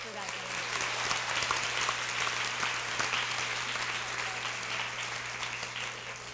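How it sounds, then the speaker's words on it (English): A continuous round of audience applause at a women's equity anniversary celebration, dense steady clapping that holds at an even level throughout with no voices rising above it. "can we just get one final round of applause?"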